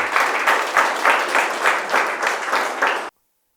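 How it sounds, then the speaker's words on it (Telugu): A crowd claps together, producing a sustained burst of applause with rhythmic swells that stops abruptly. "గట్టిగా చప్పట్లు కొడతాం అందరు మాస్టర్లు."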